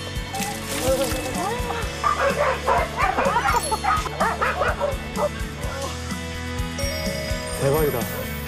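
Many dogs at an animal shelter bark, yip and whimper together in a continuous noisy chorus, close and loud, with people's voices faintly mixed in.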